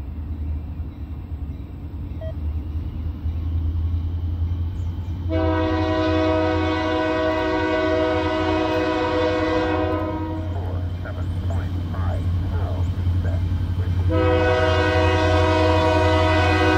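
A Norfolk Southern freight train with heritage units rumbles past loud and close, its horn blaring in two long blasts over the steady roll of the railcars.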